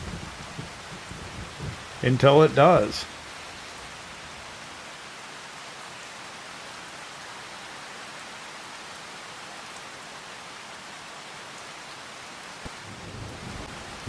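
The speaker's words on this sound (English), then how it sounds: "It has turned to a cloud, but it hasn't actually stopped physically raining yet." Steady rain falls in the video game Farming Simulator 25 as a soft, continuous hiss, with someone speaking briefly near the start.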